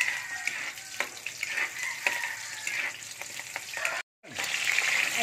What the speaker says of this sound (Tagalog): maggigisa naman ng onions